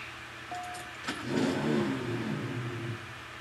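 A Lamborghini Sesto Elemento with stage 5 parts revs its engine in the CSR2 racing game, climbing from a low idle into a louder, sustained growl after a sharp blip about a second in.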